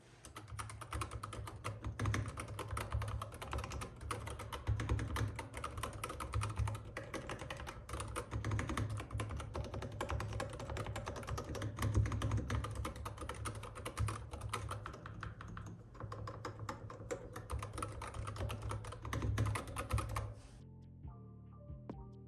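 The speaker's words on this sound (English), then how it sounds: "The linear Gator magnetic white switches are not clicky, but can sound a bit scratchy." Typing on an Epomaker HE75 Mag keyboard fitted with linear Gator magnetic white switches: rapid, continuous keystrokes with a slightly scratchy, non-clicky character that trail off near the end.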